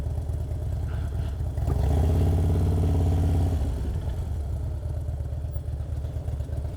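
A motorcycle engine runs at a steady mid-pitched idle on a city street at night near City Hall, swelling briefly louder as the bike is brought to a stop, then settling into a low, even throb with faint street noise around it.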